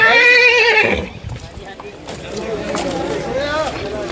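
Festival horses of a Nihang Sikh procession at a gurdwara whinny loudly up close, then hooves clip-clop on the ground amid crowd chatter and background voices.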